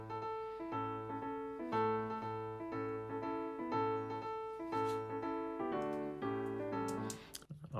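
An original intro for a national anthem plays as layered instrumental music, a repeating bass figure under chordal lines and a melody, moderately soft and steady with no voices.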